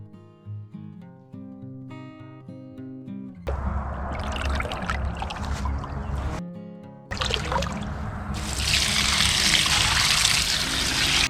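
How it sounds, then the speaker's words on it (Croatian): Rainwater pours into a bucket packed with nettles in two sustained, splashing bursts, the second louder and brighter, after a quiet musical opening with no talking. "Zatim se doliva voda kišnica da prelije koprivu."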